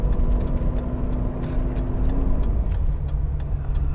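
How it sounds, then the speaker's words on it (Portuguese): A Mercedes-Benz 450 SLC's V8 engine hums smoothly and steadily from inside the car, a low continuous rumble with no talk over it. "Realmente é um som de V8 macio"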